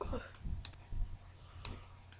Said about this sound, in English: So we're gonna right click.